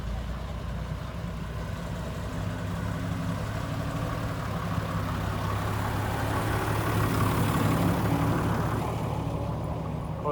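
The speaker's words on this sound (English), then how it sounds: "Fire engines." Fire engines and other vintage commercial vehicles idle at a tractor fest on a show field at Newby Hall, a steady low diesel rumble holding throughout with a slight swell near the end.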